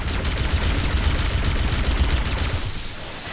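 Dense, sustained gunfire from Halo: Combat Evolved, rapid overlapping shots forming a continuous loud barrage that eases slightly toward the end.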